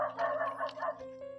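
Dogs near an abandoned, run-down house give a few short, tonal barks and whines at moderate distance, faint and brief, with a steady hum behind them.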